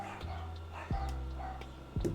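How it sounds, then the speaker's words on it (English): Dogs bark indoors at a distance: two short, sharp bursts stand out against a steady, low background hum. "I'm gonna go check on what my dogs are barking at."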